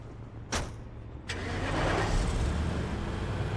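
A car engine in the video game Mercenaries 2: World in Flames starts with a couple of sharp clicks, then rises into a steady, mid-loud engine roar that runs to the end.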